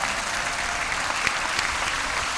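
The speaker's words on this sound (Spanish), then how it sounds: "un aplauso a los diputados y senadores de nuestro movimiento." A large crowd applauds deputies and senators at a political rally, a dense, continuous roar of clapping at an even level with no pauses.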